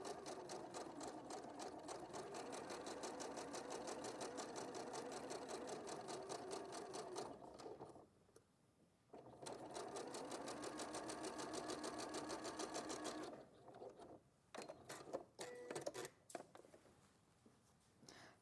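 A sewing machine stitches fabric hexagon pieces in fast, close, continuous runs, stopping briefly midway and then running again before ending in short, stop-start bursts.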